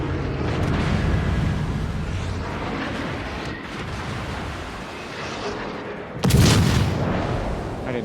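Naval guns in World of Warships fire in a dense, rumbling barrage, deep booms rolling continuously with one sharp, louder blast near the end, no voices over it.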